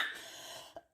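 A woman gives a single short, soft cough up close, followed by a brief breathy catch and then quiet.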